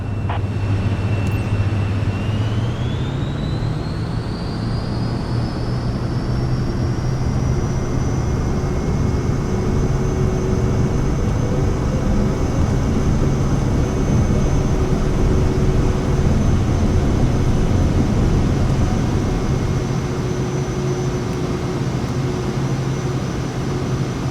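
An airliner takes off in the Microsoft Flight Simulator 2024 game, its jet engines spooling up early into a loud, steady roar with a rising whine that holds for the rest of the run.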